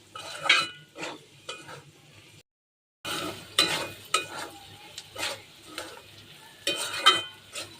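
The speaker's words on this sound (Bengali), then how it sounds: "কুচি করে রেখেছি গাজরগুলি, দিয়ে দিলাম। একটু নাড়াচাড়া করে নেব।" Chopped carrots being stirred in a pan while making noodles, with a spatula scraping in rhythmic bursts over a faint sizzle and a short silent break partway through.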